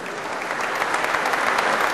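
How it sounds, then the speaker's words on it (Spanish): Audience applause fills a gala presentation hall, steady and dense clapping throughout, loud and close with no break. "Ahora ya les pido por favor un fortísimo aplauso a mis grandísimos compañeros del magazine"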